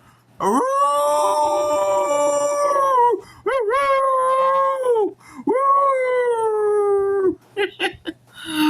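Long drawn-out howls like a wild beast, several rising and sustained wails separated by short breaks, loud and close, most likely a dog howling.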